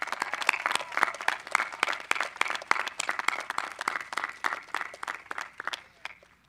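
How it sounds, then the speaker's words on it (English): A crowd at a graduation ceremony applauds the graduating Reynolds students, many hands clapping in a dense, steady patter at moderate volume from a few metres off, with no voices over it. "Let's give a round of applause to all the Reynolds students who have made our class so much better"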